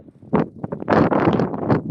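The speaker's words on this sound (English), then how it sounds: "It's way too windy" Gusts of wind buffet the microphone in rough, rumbling bursts, loud and close, with brief lulls between blasts.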